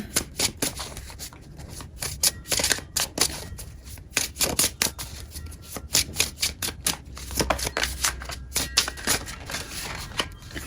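Tarot cards being handled and shuffled at close range, a steady run of crisp riffling flutters and soft slaps as the deck is split and set down, with no talk over it.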